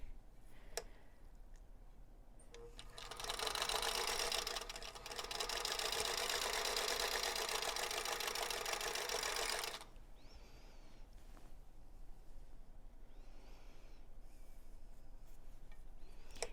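A sewing machine runs a steady fast stitch along a diagonal line on a quilt block, a continuous whirring buzz for several seconds before stopping, fairly close and alone in a quiet room.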